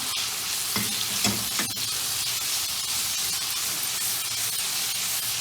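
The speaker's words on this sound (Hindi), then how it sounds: "ये हमारे टमाटर नरम हो गए हैं और हम इसको 1 से 2 मिनट भून लेंगे" Softened tomatoes and spice masala fry in a pan with a dense, even sizzle and hiss, broken early by a few close stirring scrapes, then a steady wash of frying sound with no voices.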